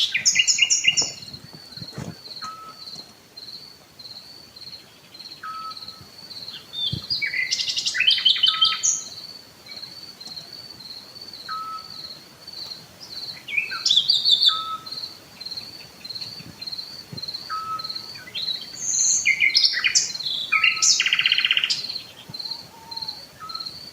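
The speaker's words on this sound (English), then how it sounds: "he was chuffed to hear a Eurasian scops owl, a first of the year, and he sent the recording" A Eurasian scops owl's soft, monotonous piping note repeats every three seconds through the night at RSPB Nagshead, while nightingales sing rich, varied phrases over a steady insect trill.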